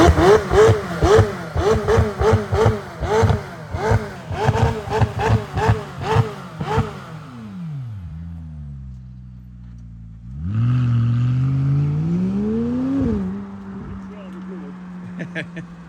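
A McLaren 600LT Spider with a titanium exhaust barks through a rapid series of sharp, loud revs, then drops to a low idle before one long rising pull and a settle back down.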